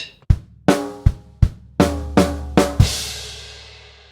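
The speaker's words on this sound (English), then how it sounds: "so the whole of that bar, bar 22, sounds like this" A drum kit plays bar 22 of a Trinity College London Grade 3 piece, eight sharp strikes in an uneven rhythm with ringing tom and cymbal decay, alone and close.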